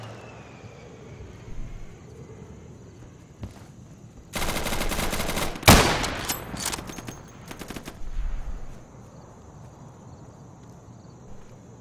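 Bursts of automatic gunfire in the tactical shooter Insurgency, a loud rapid volley of shots lasting a few seconds with a sharp crack near the middle, then quieter scattered shots against a low ambient hum.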